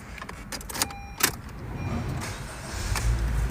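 A car engine cranks and catches after the key is turned, following a jingle of keys and a couple of sharp clicks, then settles into a low steady idle.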